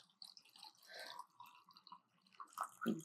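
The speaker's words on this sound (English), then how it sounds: "We'll take the top off and pour." A chilled cocktail pours from a shaker into a glass, a soft, close, trickling and dripping liquid stream that runs for a few seconds with small splashes, with no talking over it.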